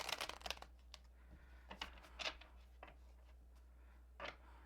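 Tarot cards are shuffled quietly in a few brief riffling and sliding bursts, soft and close, separated by pauses.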